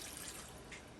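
Water running into a pot of crab for Guyanese crab curry, a faint, steady hiss of pouring liquid with no pauses across the brief moment and no speech.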